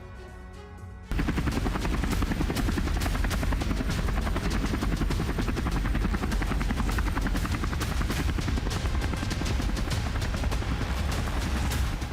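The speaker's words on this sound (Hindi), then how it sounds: "रूसी हेलीकॉप्टर लगातार फायरिंग करते रहे" Russian military helicopters fly and fire continuously: a dense, loud roar of rotor noise with rapid, sustained gunfire bursts starting abruptly after a quieter opening second and running unbroken to the end.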